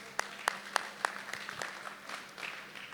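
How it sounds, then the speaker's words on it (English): An audience at a national real estate convention gives a round of applause, starting with a few sharp, well spaced claps that loosen into quieter, scattered clapping. "Can we have a round of applause for him for making 50 friends?"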